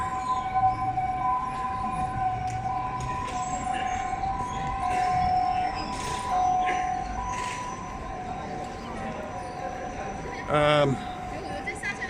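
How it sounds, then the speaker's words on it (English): A siren wails steadily in the distance over busy street noise and people talking, with a brief louder rumble near the end. "There's a Shenzhen Siren."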